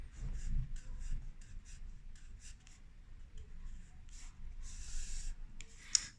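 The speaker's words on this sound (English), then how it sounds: "I'm just going to get a pen and I'm just going to draw very quickly a little hand, 2 hands like this" A pen quickly sketches two small hands on paper, a close series of short scratchy strokes with brief pauses and a sharp tap near the end.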